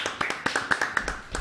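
A handful of studio audience members give a short burst of distinct, fairly close claps for a guest on a talk show, about ten claps in quick uneven rhythm.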